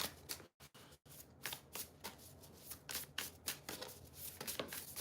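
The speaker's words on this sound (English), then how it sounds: "So we're gonna just keep shuffling and see if we can get 1 or 2 to pop out." A deck of cards is shuffled repeatedly up close, giving quick riffling bursts and soft slaps with short pauses between passes, and no one speaks.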